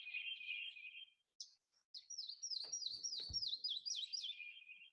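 A bird sings a slow, descending series of sweet whistled notes, clear and moderately near, with a brief pause before the song continues.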